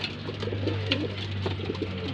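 A pigeon coos up close, soft low throaty calls repeating over a faint steady hum.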